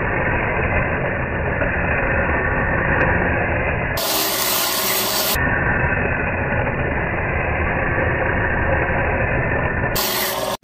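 A valve grinding machine runs continuously in a shop, grinding an engine valve for a Ford SOHC 4.0 cylinder head, with a steady motor hum and a rough, even grinding texture throughout.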